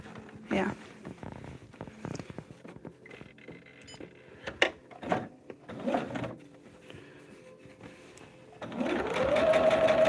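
A sewing machine stitches quilt seams along the solid line of a foundation piece for a blended fan quilt. Short bursts run amid quiet handling noises and talk, then a steady loud run of stitching at the end.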